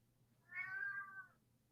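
A single cat meow, a brief faint rising-and-falling call of about one second over a quiet low hum, with no talking.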